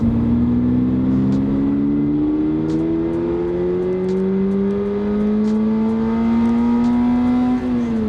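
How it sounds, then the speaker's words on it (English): A high-pitched Subaru BRZ engine revs hard and climbs steadily through the gears, loud and close, with a brief dip near the end. "One more time, I just want to hear this engine noise."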